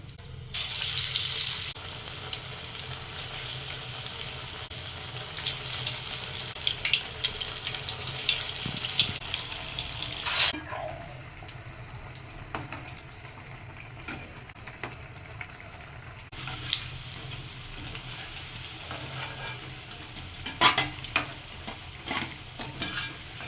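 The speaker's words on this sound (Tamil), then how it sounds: "எண்ணெய் காஞ்சிருச்சு வடை போட ஆரம்பிக்கலாம்" Banana flower vadas frying in hot oil, a steady close sizzle with stirring and scraping noises and brief bursts of louder crackle, no talking.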